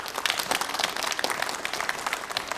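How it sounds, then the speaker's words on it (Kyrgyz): Audience applause at a Kyrgyz children's event, a steady patter of many hands clapping at moderate distance, continuous and without voices. "Кол чабуулар."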